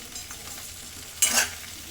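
Okra sizzles softly in an open, uncovered pan over medium heat, with a brief scrape of stirring partway through.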